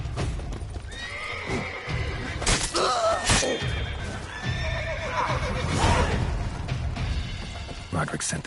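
Horses whinny and neigh amid clattering hooves and rough background noise, with voices calling out over the commotion, in the video game The Witcher 3: Wild Hunt.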